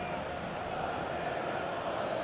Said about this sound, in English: Well, the crowd noise says it all.